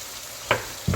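Tomato puree curry being stirred and mixed in a pan, two brief soft scraping strokes over a faint steady sizzle, close and quiet.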